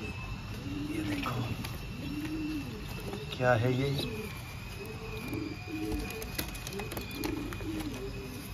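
Soft, repeated coos from Hyderabadi breeding pigeons roll on in a steady rhythm nearby, with a brief chirp in the middle and someone talking quietly over them.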